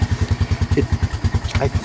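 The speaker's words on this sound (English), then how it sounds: "I think I am turning the engine the wrong way." The engine of a salvaged Sunl off-road go-kart is turned over by hand, making a rapid, even series of low thumping chuffs at close range with no running combustion.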